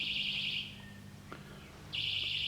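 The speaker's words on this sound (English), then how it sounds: "Oh, that'd be Roach testing out his alarm" An alarm is tested at a bug-out vehicle camp: a shrill electronic tone sounds, stops briefly and then sounds again, over a low steady background hum.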